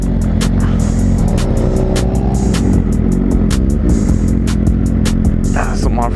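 A vehicle engine roars and revs while off-roading, loud and close throughout, with rattling, bumping and sharp clatter over the steady drone.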